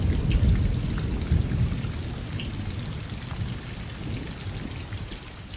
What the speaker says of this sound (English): The sound of rain in the forest can be even more therapeutic.